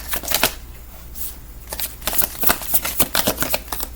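Tarot cards are shuffled and drawn by hand, close-up riffles and soft flicks of card stock in irregular bursts, alone without talk.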